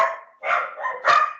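Pet dogs barking indoors in a home, three loud, close bursts of barking in quick succession with no talk over them.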